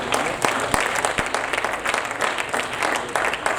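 A church congregation breaks into loud, sustained applause, a dense wash of clapping from many hands with a few sharper claps standing out, close and continuous throughout.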